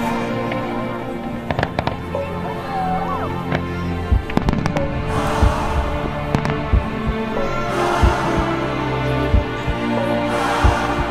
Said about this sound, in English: So expect a lot of fireworks.